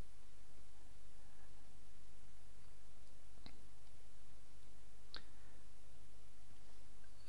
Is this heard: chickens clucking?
no